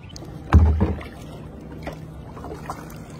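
A kayak paddle dips into a calm lake with a distinct splash, followed by softer drips and water movement, close and otherwise quiet.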